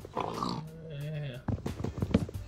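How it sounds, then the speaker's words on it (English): Pigs in Minecraft give several short, close grunting oinks, first a cluster, then a sustained tone, then a rapid run of snorts and grunts. "there's heaps of pigs over here"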